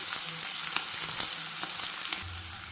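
Onions fry in a pan for a field-bean curry, giving a dense, steady sizzle with faint stirring scrapes and soft pops throughout.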